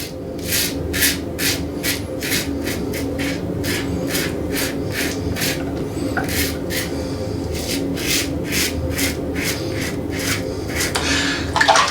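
Wilkinson Sword Classic safety razor shaving over Wilkinson Sword shaving cream, a close, loud rasping scrape in steady repeated strokes of roughly even rhythm, continuing without talk.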